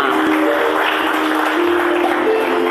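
Steady crowd applause filling the whole stretch, dense and continuous with a faint tonal hum underneath and no pauses.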